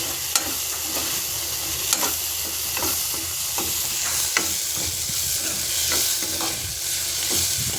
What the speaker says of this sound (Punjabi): ਇਧਰ ਆਪਣਾ ਤੜਕਾ ਵੀ ਬਸ ਫਰਾਈ ਹੋਣ ਵਾਲਾ ਹੀ ਆ ਥੋੜਾ ਜਿਹਾ ਆਪਾਂ ਹੋਰ ਇਹਨੂੰ ਫਰਾਈ ਕਰਾਂਗੇ